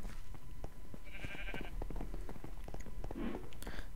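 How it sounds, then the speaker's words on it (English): Sheep bleating in the Minecraft video game, a short synthetic bleat standing out mid-clip over busy game sounds and footsteps, with a second faint call near the end. "Maybe we want to kill those sheep."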